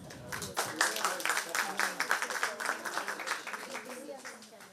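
An audience applauds at a classical Indian music arangetram, a steady patter of clapping rising after a brief opening and continuing at moderate level throughout.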